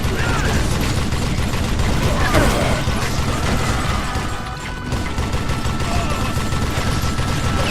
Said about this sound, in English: Crank chain gun sound.